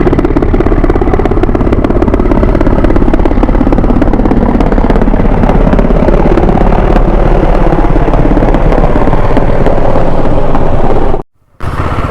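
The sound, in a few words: helicopters flying overhead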